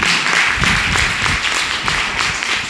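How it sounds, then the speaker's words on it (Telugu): A church congregation clapping loudly in praise, dense continuous applause at a strong, steady level for the whole stretch. "గట్టిగా చప్పట్లు కూడా దేవుని స్తుతిద్దాం."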